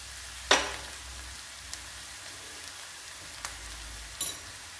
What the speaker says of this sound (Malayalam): ഇപ്പോൾ നമ്മുടെ സവാള ഒന്ന് വഴന്ന് വരട്ടെ